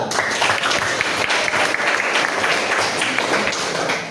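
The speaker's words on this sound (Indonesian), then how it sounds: "Kita kasih aplaus untuk Naufal" A classroom group claps for a student named Naufal, giving a dense, steady round of applause that carries on for about four seconds before tapering off.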